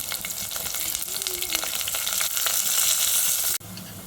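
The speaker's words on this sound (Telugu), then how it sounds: "ఉల్లిపాయ కొంచెం వేగింది" Onions fry in hot oil in a pan for a mixed vegetable pulusu, with a continuous close sizzle and crackle and a few light stirring touches. The sizzle drops away sharply near the end.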